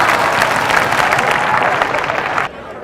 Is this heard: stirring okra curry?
no